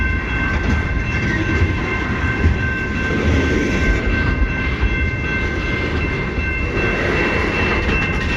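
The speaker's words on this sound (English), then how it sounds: "I think there's another train up there." A CN freight train rolls past on the tracks at South Rockwood, giving a steady, loud low rumble with wheel and rail noise that holds throughout, with faint high-pitched tones riding above it.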